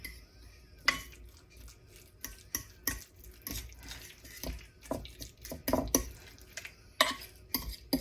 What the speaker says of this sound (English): we're going to mix this all in